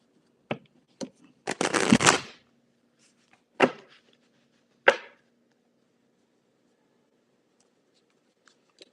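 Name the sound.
shuffling playing cards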